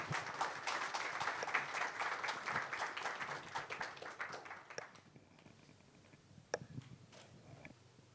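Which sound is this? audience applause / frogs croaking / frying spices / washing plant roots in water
audience applause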